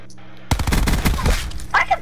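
Rapid shotgun and gunfire blasts from a Call of Duty online match, a dense burst of loud, overlapping shots after a half-second of quiet, mixed with shouted voices.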